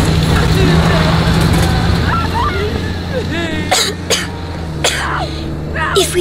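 A character coughing and clearing the throat in Call of Duty Modern Warfare, several harsh coughs close by over a low vehicle hum, with speech heard in between.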